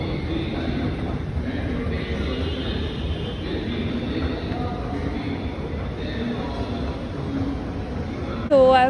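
Steady low rumble of a metro train in an enclosed metro station, continuous and fairly loud, with murmuring voices in the background and a brief clatter at the end.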